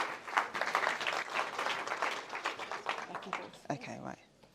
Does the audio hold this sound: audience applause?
yes